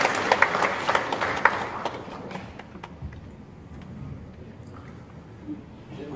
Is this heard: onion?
no